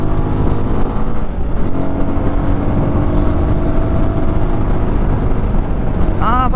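A Guerrilla 450 motorcycle engine holds a steady, loud drone while riding in second gear, accompanied by constant wind and road rumble and a brief whine near the end.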